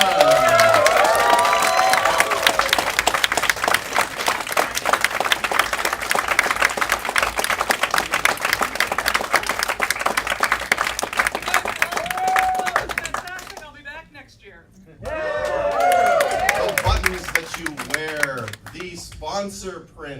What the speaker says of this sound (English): will you please give a rousing round of applause to CanFURence 2016's guest of honor, Heather Bruton!